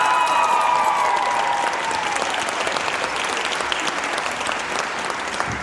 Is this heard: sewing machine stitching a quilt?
no